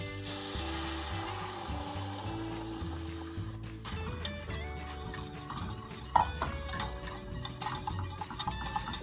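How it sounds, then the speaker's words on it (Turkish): Roasted flour being stirred with hot water in a pot for a soup, a steady soft scraping and swishing of the spoon with a few light clinks, under quiet background music and no talk. "Devamlı karıştırıyorum topaklanmaması için."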